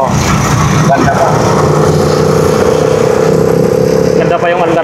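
The engine of a Chariot Gogo vehicle runs steadily while it is driven on a muddy, bumpy road, a continuous droning hum that rises slightly near the end, with people talking over it.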